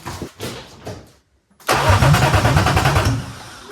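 A BMW engine cranks over and catches on a starter, a short whirring crank followed by a loud, steady engine run close by with rhythmic pulsing.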